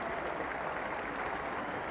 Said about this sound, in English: A warm round of applause for his efforts.